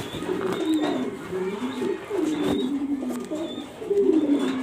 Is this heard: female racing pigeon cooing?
yes